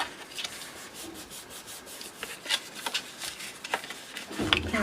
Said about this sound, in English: I'm going to put glue on here. I'm going to fold it up.